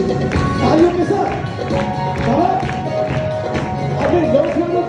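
A church congregation claps along at a worship gathering, with sharp hand claps recurring through the clip over steady singing or music and voices.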